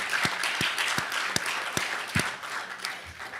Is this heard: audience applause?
yes